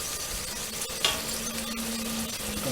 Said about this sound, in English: Let's stir all this up.